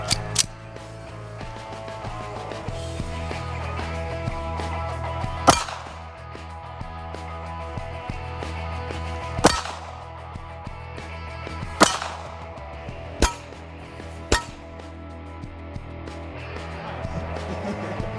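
Several sharp gunshots from a .380 Auto pistol fired at a Level III body armor plate, spaced a few seconds apart over a low mechanical background hum.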